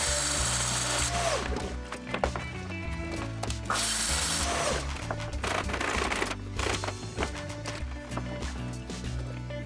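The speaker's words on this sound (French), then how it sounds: "Pour la dernière plaque de la rangée, il faut faire une petite découpe." A power saw cuts through an OSB sheet for a first-floor deck in a renovation, a loud continuous buzzing grind with rattling and ratchet-like clicks throughout, no talking over it.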